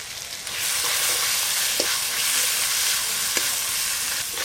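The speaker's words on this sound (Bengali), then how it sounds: "আদা রসুন আর টমেটো একসঙ্গে ভালো করে কষে নেব।" Ginger, garlic and tomato with spices frying in a pan, a steady loud sizzle throughout with a couple of brief stirring clicks, no voices.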